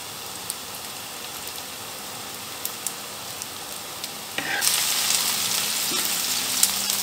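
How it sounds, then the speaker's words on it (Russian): Chopped onion and garlic frying in a pan: quiet crackling at first, then a sudden louder sizzle as more goes in, settling into a steady close hiss with occasional pops and stirring. "Лучок жарится всего примерно где-то 10 минут."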